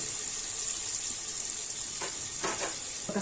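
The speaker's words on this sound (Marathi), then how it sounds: "तर कांदा थोडासा परतून घेऊ आपण मग त्याला।" Onion frying in a pan for chicken biryani: a steady close sizzle with bright hiss throughout, plus a few soft stirring scrapes toward the end.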